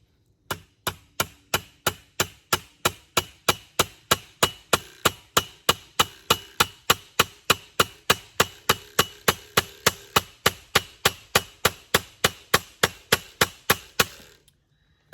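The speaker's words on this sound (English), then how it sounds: "I want to pound it into this 2x4, this 2x2 rather, with this 2x4" A Microtech Exocet knife is hammered into a 2x2 with a 2x4, giving about forty sharp, evenly spaced wooden strikes in a steady rhythm, loud and close, with no talking.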